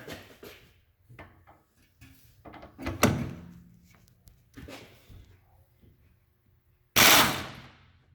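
Air impact gun on a 2012 Mazda CX-9 rear wheel hub nut, with a couple of short mechanical bursts and clunks among quieter handling noise, ending in a loud, sharp final burst.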